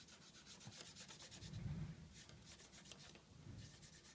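An old t-shirt cloth rubbing oil paint off a plastic Revell Colonial Viper model kit, producing faint, close, rhythmic scratchy wiping strokes in a quiet room, with no speech.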